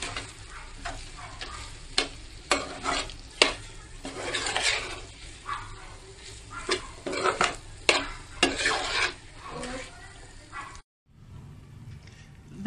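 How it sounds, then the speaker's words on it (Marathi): A potato and chicken patty mixture frying in a pan is stirred repeatedly. Sharp scraping and clanking of the spoon against the pan sit over a soft sizzle, close and steady, and the sound cuts out for a moment near the end. "व्यवस्थित आपण हे मिक्स करून घेऊया."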